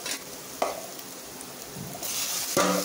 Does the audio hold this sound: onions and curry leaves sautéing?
yes